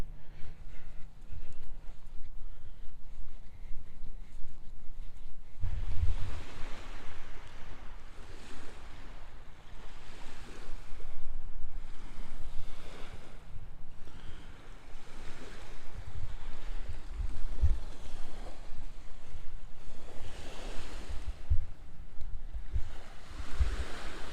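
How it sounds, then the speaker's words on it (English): Small, gentle waves break steadily on a Lake Michigan beach in winter, a continuous soft wash of surf with periodic swells, fairly close and alone without voices. "Probably be out here all day just sitting here listening to the waves."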